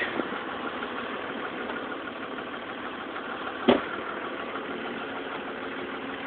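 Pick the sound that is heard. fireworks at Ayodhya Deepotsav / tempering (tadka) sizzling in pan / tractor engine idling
tractor engine idling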